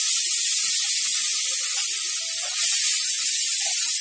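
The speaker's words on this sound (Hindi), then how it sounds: "ऑयल गर्म हो गया है, अब इसमें ये प्याज डाल के हम इसको भूनेंगे।" Onions frying in hot oil for a restaurant-style paneer lababdar gravy, a loud continuous close-up sizzle and hiss with scattered small pops and crackles throughout, no talk.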